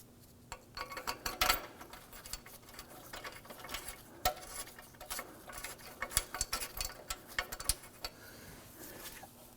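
Bolt on the lower intercooler mount of a 2015-2020 Ford F-150 2.7L V6 being tightened, heard as a run of quick metallic ticks and clicks from a nearby hand tool, irregular in rhythm, with no talking.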